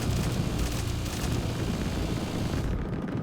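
AC-130 gunship opening fire in the sci-fi game Drone Sector, a dense, continuous roar of heavy gunfire and explosions washing over everything at high volume for about three seconds before tapering slightly.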